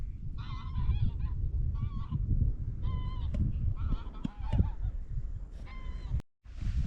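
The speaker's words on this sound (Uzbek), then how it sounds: "Mana qushlar, mana o'rdaklarmi, g'ozlarmi." Geese or ducks in flight over open water honk in repeated bursts, fairly close and loud, over a continuous low rumble of boat or engine noise.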